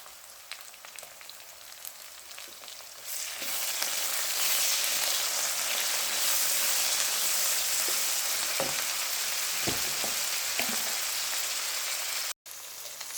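Garlic, ginger and green chili paste hits hot oil in a pan and sizzles loudly and steadily, a faint background giving way around three seconds in to a sustained frying hiss with occasional stirring clinks.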